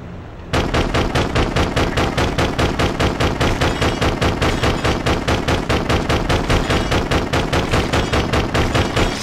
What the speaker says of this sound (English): So use your guns. Blam blam.